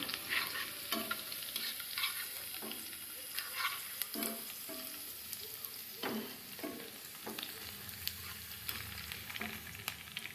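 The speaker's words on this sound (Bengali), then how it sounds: "এখন আমি পেঁয়াজটা ভেজে নিচ্ছি" Onions frying in a pan while pabda fish is cooked as bhuna, with a steady oily sizzle throughout and repeated scraping stirs of a spatula against the pan, close and moderately loud, with no talking.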